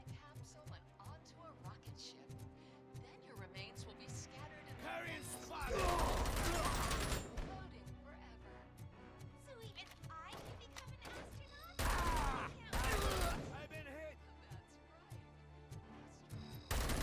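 Assault rifle gunfire in the video game Robocop Rogue City, heard as loud bursts of shots and crashes in a couple of clusters amid quieter game sounds, with someone talking over parts of it.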